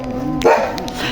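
Near a road, a pack of jackals howls and yelps, a sharp yelp breaking in over a steady wavering howl, then repeated arching cries that carry on close and clear.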